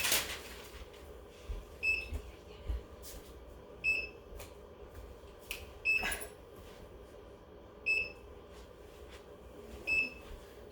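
A microwave oven gives a series of short, sharp electronic beeps in pairs or triples, spaced about every two seconds, over a quiet room hum with faint household clatter and no talking.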